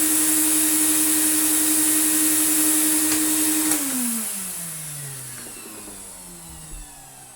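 A restored Electrolux Z2060 Electronic vacuum cleaner runs with a steady, loud motor whine. The motor then winds down, its pitch falling until it trails off into a quiet room.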